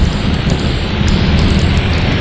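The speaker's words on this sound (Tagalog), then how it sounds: "Sarap ng ulan guys." Heavy rain falls steadily during the rainy season, a dense, loud, continuous roar of drops with low rumbling underneath and no break throughout.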